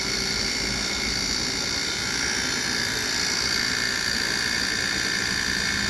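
An aesthetic treatment device with a handheld gun runs steadily, a continuous loud hiss and whine with a low rumbling undertone throughout, no voices.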